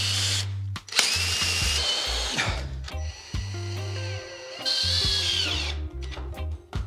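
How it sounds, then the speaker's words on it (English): Power drill boring a hole into a wooden terrarium frame, a close, loud whining burst that stops and restarts several times, with short pauses and clunks between runs. "what we need to do is to drill a hole and then put some screws"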